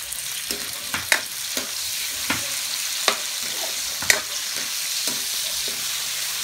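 Meat sizzles and fries in a pan with garlic and onion while a utensil stirs, giving a steady close crackle broken by sharp, irregular scraping clicks through a home kitchen meal preparation.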